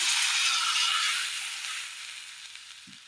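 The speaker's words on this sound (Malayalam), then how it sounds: "ഇനി ഇതിലേക്ക് ചൂടുവെള്ളം ഒഴിച്ചു കൊടുക്കാം" Hot water poured into chilli and coriander powder that has been fried in a pan for a Kerala fish curry, giving a loud steady sizzling hiss that slowly fades over a few seconds, with no one speaking.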